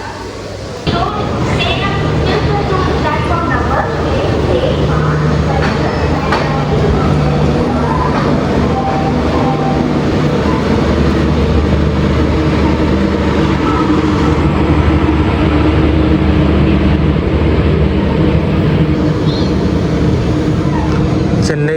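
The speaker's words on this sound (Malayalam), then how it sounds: "എന്നിട്ടിപ്പോൾ വണ്ടി എടുത്തു." A train pulls out of Mettupalayam station with a dense, steady rumble and rolling clatter that stays loud throughout, and people talk over it.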